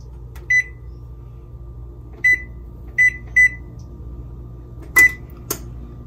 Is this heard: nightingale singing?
no